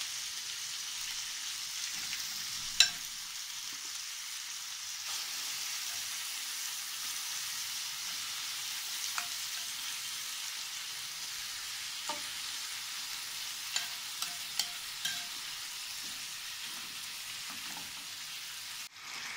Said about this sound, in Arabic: كده بشوح في الكبده وقلبتها من ناحيتين بالراحه عشان ما تتقطعش